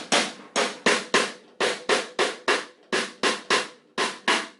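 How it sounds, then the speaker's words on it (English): Samba snare pattern on a drum kit, sharp snare strokes in steady groups with accented hits and quick decays, played alone up close with no talking. "A very common samba snare pattern sounds like this."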